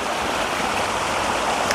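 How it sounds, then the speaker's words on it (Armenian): Mountain spring water rushes steadily into a lake near Jermuk, a constant close wash of flowing water with no voices. "Այս լեռնային աղբյուրները գալիս են ու այսպես տեսեք, հոսելով լցվում և կազմում են այս գեղեցիկ լիճը"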